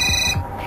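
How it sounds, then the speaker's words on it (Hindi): A phone ringtone chimes loudly in an indoor scene from a Hindi crime drama, a short electronic ring with a couple of pulses, heard alone without talk. "साहब निशांत का फोन आ रहा है।"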